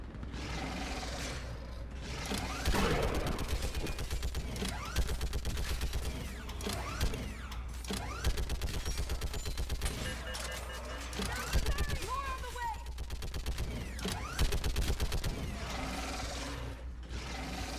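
A mounted gun turret fires in a video game as dense mechanical rattling and clanking that runs through the whole stretch, with voices speaking over it at times.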